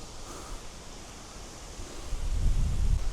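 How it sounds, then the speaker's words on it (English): Strong wind gusting along an outdoor walking path near a campground, a steady broadband rush that swells louder and deeper toward the end, with no talking. "Wow, the wind's really picking up."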